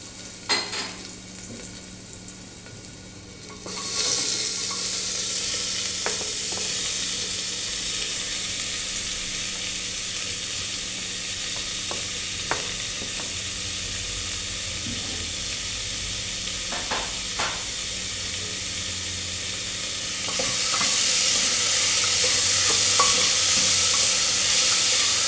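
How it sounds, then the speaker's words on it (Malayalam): Onion sautéing and being stirred in a pan for a kothal fry, with steady sizzling and frying throughout, occasional scrapes of the spoon, and the sizzle growing louder near the end; no talking. "ഇത് കുറച്ച് വഴറ്റിയാവുമ്പോൾ ഇനി ഉള്ളി അതിലേക്ക് ചേർത്ത് കൊടുക്കണം."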